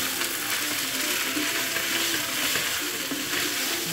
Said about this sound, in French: vous mettez bien, vous mélangez jusqu'à ce que ça prenne la même couleur